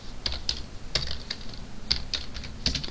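Fingers tap on a computer keyboard at close range, irregular clusters of crisp key clicks with short pauses, no talking.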